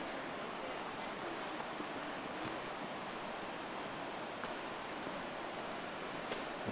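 A far-off waterfall in a rain-soaked Maui jungle fills the air with an unbroken, even hiss of falling water, a few soft clicks and drips scattered over the steady wash, with no one speaking.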